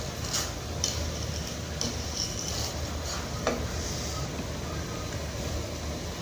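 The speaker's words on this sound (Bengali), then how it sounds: "এটাকে ভালো করে নেড়ে চেড়ে ভেজে নিতে হবে।" Laccha semai is stirred and fried in a pan with a constant close sizzle, broken by light, irregular scraping ticks of the utensil.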